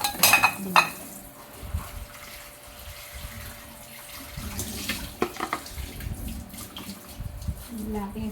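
Tap water runs steadily into a kitchen sink while dishes are washed during home cooking, a continuous close hiss with occasional clinks and splashes and a voice in the background.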